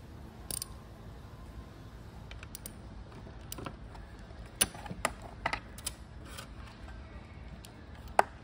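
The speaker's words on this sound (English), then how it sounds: "take your spark plug wrench, put it on your plug," Spark plug wrench loosening and pulling the spark plug from a GY6 or QMB139 scooter engine turned over by hand, a handful of sharp metallic clicks and taps, close and moderately loud over quiet workshop background.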